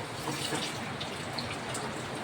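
Water pours steadily onto native chicken in a pot while tinola is being prepared, a continuous close splashing rush with no break.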